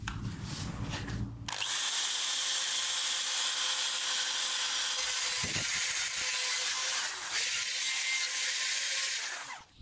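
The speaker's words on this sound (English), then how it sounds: "We now move in with the electric drill." A power drill whirs loudly and steadily against a metal cafe racer motorcycle fuel tank with a high grinding whine, following a brief rougher rubbing noise, then winds down near the end.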